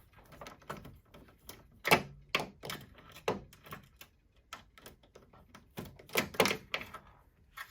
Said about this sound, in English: Now we're gonna take that screw off right there, so we can release the motherboard.